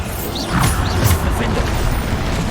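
Bombarda spell explosions in the video game Hogwarts Legacy: loud, dense crashing blasts and whooshes rolling together over about two and a half seconds, with a heavy low rumble throughout.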